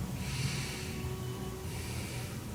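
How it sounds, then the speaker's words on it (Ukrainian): A deep, slow breath in through the nose into the chest during a breathing exercise, a soft, airy, close inhale with nobody speaking. "Бачите, я вдихаю в грудну клітку, ребра в мене розходяться по сторонам."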